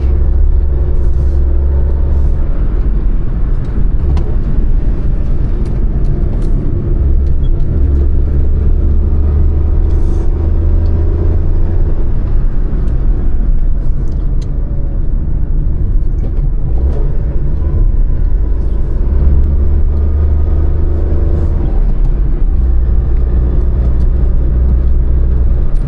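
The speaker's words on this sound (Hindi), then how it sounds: "आपको कैसी आवाज़ लगती है जब डाउन शिफ्टिंग होती है इस गाड़ी की" An Alto K10 car drives a mountain road near Shimla, its engine rumbling loud and steady from inside the cabin as it downshifts through corners, with no talking over the continuous drone.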